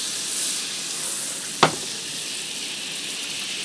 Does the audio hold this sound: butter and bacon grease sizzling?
yes